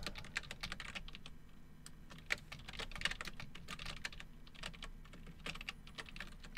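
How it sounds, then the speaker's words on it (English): Rapid clicking of keys on a computer keyboard, quiet and irregular in bursts, with no voices. "Sorry for the typing noise there"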